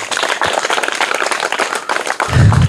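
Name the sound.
applause for a quiz winner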